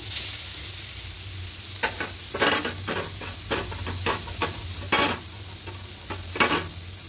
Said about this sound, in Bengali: এবার এদিকে কড়াইয়ের মধ্যে নারকেলটা দিয়ে দেবো।